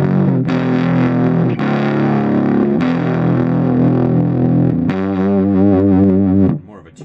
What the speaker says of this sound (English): I'll turn the tone knob down for a nice trumpety sort of sound.